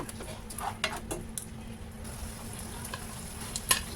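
Chicken liver stir fry seasoned with chili flakes and soy sauce sizzles in a pan as it is stirred, a close, steady frying hiss broken by a few sharp utensil scrapes and clinks.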